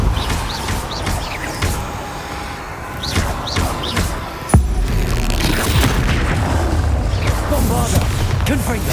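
Bombarda and Confringo spell explosions in Hogwarts Legacy: one loud booming blast midway, with busy magical whooshes and crackles before and after it.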